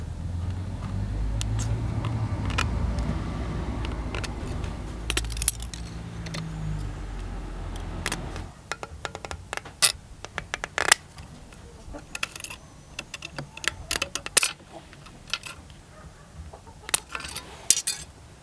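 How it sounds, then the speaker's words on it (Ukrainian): Scissors snip excess metal while making a Finka fishing spoon lure, a series of sharp, close clicks and clinks, irregularly spaced, after a stretch of low rumbling background. "Відрізаємо зайве ножицями"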